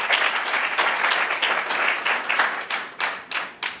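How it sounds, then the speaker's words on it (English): Audience at a JCI Botswana ceremony giving a round of applause, dense clapping that swells, then thins into separate bursts and fades out. "May you give them a round of applause."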